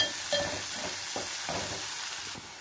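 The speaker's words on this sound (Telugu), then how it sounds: "చూడండి, పోపు వేగిపోయింది." Tempering spices crackle in hot oil while an okra fry is being made, a soft, steady sizzle with intermittent stirring scrapes, heard up close and without speech.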